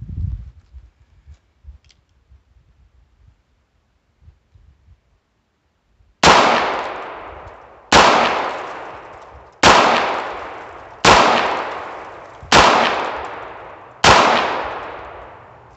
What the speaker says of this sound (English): Let's put six more rounds down there on the left-hand target.